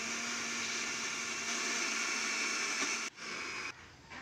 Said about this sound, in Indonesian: Lalu kita blender lagi.